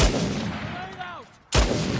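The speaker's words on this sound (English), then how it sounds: "Grenade out!" Two loud grenade blasts in the action game Uncharted 4, a booming burst at the start that fades out, then a second sharp, heavy detonation after a brief lull, with faint shouts between.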